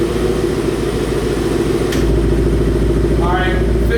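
A 2018-2021 Ford Mustang GT exhaust in sport mode revs toward 3,000 RPM: a deep, steady rumble that swells noticeably louder halfway through and holds, close to the car.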